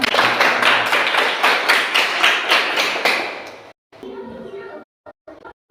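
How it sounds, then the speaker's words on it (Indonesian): A class claps in a regular rhythmic beat during an Indonesian school lesson, about a dozen loud unison claps, then a pause and a brief quieter stretch with scattered sounds and breaks. "tepuk tangan"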